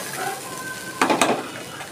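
Chana matar is stirred in a pan over a low sizzle, with a brief burst of scraping and clatter from the spoon against the pan near the end.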